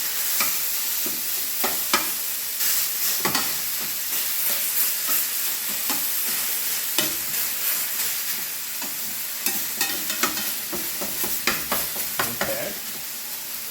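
Chopped food frying in a hot pan gives a loud, steady sizzle, close by, broken by frequent sharp clicks and scrapes of stirring throughout.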